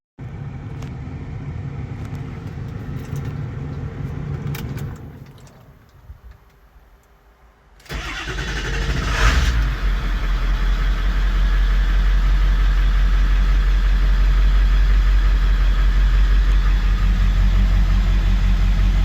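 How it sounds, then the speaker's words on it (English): A Ford 7.3 Powerstroke diesel truck turns over on a cold start, the engine dips briefly, then catches and settles into a loud, close, steady low idle with a ticking clatter. "let's get a cold start going"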